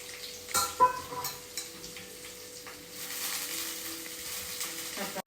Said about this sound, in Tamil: வெங்காயத்தை போட்டுட்டு நல்லா வதக்கணும்.